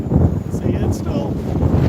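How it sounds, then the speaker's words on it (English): Strong wind roars at an RC flying field during a windy flight of an E-flite UMX A-10 Thunderbolt II, a steady low rumble of gusts battering the microphone throughout, with a voice talking over it. "the wind is strong, don't get me wrong"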